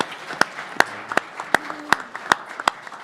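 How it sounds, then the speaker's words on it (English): Sparse, evenly spaced claps from a small press conference audience, crisp and fairly close, with a faint murmur between the beats. "So give her a round of applause for that."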